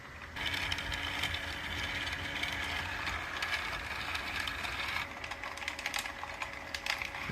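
Polyformer motor driving a new sun-planet gearbox, a quiet, steady mechanical whir with fine rapid clicking and gear chatter that runs continuously, close-up with no voices.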